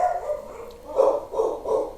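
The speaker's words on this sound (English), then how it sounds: "sorry for the barking." A dog gives a few muffled, hollow woofs in a loose series, somewhat distant and fairly soft.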